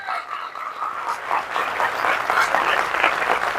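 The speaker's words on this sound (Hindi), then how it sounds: "एक बार जोरदार ताली आप सभी के लिए" Audience applause at an RCM business training event. The clapping starts sparse and scattered, then builds into fuller, louder clapping from a crowd.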